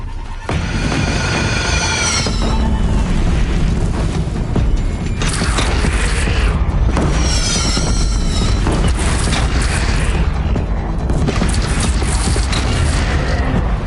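Explosions and heavy mechanical booms from the Horizon Zero Dawn video game, with dense rumbling blasts, creaking machinery and sweeping whooshes, loud and continuous throughout.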